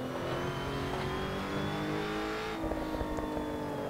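Ginetta GT4 race car in Assetto Corsa, its engine droning steadily with rising and falling revs, loud and continuous with no talk over it.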